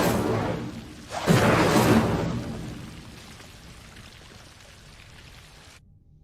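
The Incendio fire spell cast in Hogwarts Legacy on PS5 bursts out as a loud, rushing whoosh about a second in, then fades into a long, dwindling crackle before cutting to silence.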